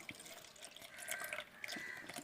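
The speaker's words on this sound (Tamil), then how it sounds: "இப்போ தண்ணியை சேர்த்து அதை லையாக பண்ணிக்கலாம்." Water poured into caustic soda to make lye for foaming soap oil, a steady splashing, trickling pour running the whole moment, fairly close and moderate in level.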